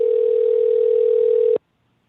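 A steady telephone dial tone holds at one pitch, loud and alone, then cuts off abruptly into silence.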